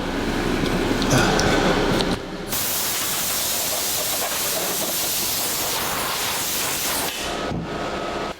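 Compressed air hisses loudly in long continuous blasts, blowing sand off a 1982 Jeep CJ7 heater box part. A brief pause interrupts the first burst, then a sustained spray runs nearly to the end.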